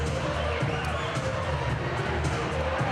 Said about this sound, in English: this game it's been a very energetic, loud crowd so far in this first half